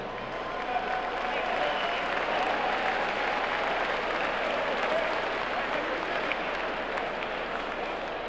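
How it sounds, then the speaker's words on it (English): Sustained crowd applause and cheering fills an arena at a college basketball Midnight Madness event, steady and loud throughout with a diffuse roar of many hands clapping. "one more big round of applause"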